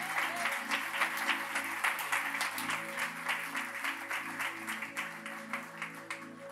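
A church congregation applauds to acclaim the Lord, a steady wash of many hands clapping at moderate distance, with a faint sustained organ or keyboard tone underneath.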